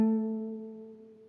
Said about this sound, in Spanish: En una guitarra suena así.